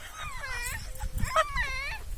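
A dog whimpers and yips in a series of high, wavering cries close by, with a person speaking Tamil in between.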